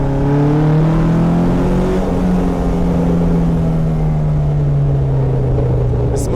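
An Alfa Romeo 105 engine pulls hard while driving, a loud close rumbling drone whose pitch climbs then slowly falls as the car carries on at speed.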